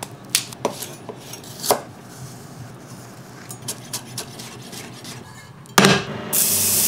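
A knife chops shallots on a cutting board for compound butter, in a few sharp, separate strokes with quiet pauses between them, then a louder burst of scraping or rustling near the end.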